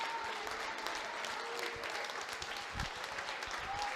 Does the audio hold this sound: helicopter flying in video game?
no